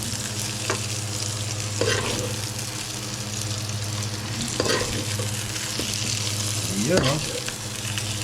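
Pork being sautéed in a pan, a steady close sizzle with a few louder scraping stirs, and a brief spoken remark.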